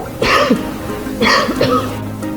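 Two harsh coughing fits, each a rough burst with a throaty tail, about a second apart against a low steady background hum.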